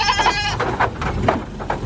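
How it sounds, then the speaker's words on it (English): Goats and young kids in a farm pen bleating repeatedly in short overlapping calls, close and fairly loud, several animals answering one another. "All right, goats. Let's get you all adjusted."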